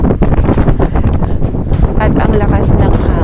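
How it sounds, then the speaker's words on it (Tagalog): Strong wind on a mountainside buffets the microphone in loud, continuous low rumbling gusts. "Grabe, ang lakas ng hangin."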